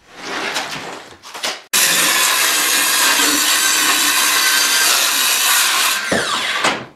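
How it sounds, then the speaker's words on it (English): A table saw rips through a sheet of 1/4 inch plywood with a loud, steady, hissing whine that lasts about four seconds, after brief handling noises and before the blade winds down. "the first thing I did was I cut this piece of 1/4 inch plywood"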